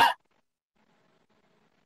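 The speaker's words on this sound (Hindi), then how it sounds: "उसके लिए मैं खांस रहा हूँ" A man coughs once, short and sharp, at the very start, followed by near silence with a faint low murmur.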